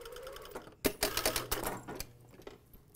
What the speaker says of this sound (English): I'm going to stitch basically in the center of that overlocking, holding it a little bit firm